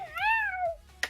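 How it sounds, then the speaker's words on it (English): A tiny kitten lets out one clear, rising-then-falling meow up close, quiet overall, followed by a brief soft click. "It's such a tiny cat."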